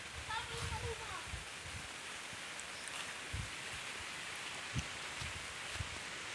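Heavy rain falls outdoors during a pigeon hunt, a steady broad hiss throughout with occasional soft low thumps beneath it.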